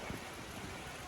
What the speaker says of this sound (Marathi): पाऊस लय जोरात होत आहे